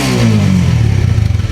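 A Honda 150cc motorcycle engine, close and loud, drops from a rev into a throbbing idle with a pulsing, slightly clattery beat.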